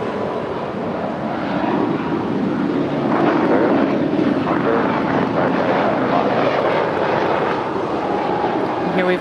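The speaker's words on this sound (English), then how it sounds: "here we've got Spirit Flight 643 heading to Chicago O'Hare. It's a 1-year-old Airbus A320 Neo." A Spirit Airlines Airbus A320neo departing LAX gives a steady, moderately loud jet roar with a rising engine tone, and a voice talks over it in places.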